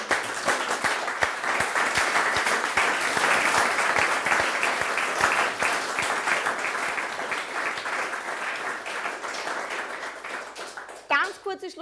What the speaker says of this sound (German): Ein Applaus für alle.